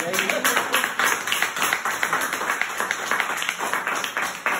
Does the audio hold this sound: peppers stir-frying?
no